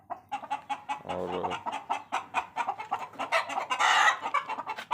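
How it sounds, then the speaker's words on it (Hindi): Small chickens cluck and peep repeatedly in short, busy bursts at close range, with hens and other fowl kept as pets nearby; a brief spoken word is heard once. "ये 3 ये सील चिक्स हैं, ये फिर रहे हैं"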